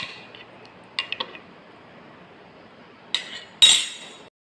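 Amla juice with lemon juice and honey being mixed in a glass, heard as a few light spoon clinks early on, then a quiet stretch and a louder clatter near the end, close and sparse with no speech.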